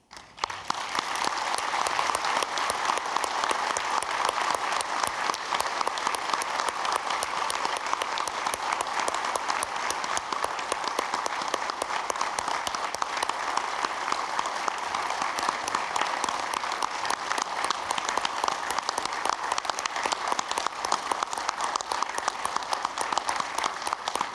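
Sustained, dense applause from a standing audience at a county sheriff's department awards ceremony honoring a retiring deputy and his family, steady and full for over twenty seconds with no speech over it.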